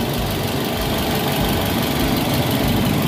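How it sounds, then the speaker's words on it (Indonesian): A 2014 Toyota Vios Limo sedan engine idles steadily close by, a smooth continuous hum with a faint knocking texture and no voices. "suara mesinnya."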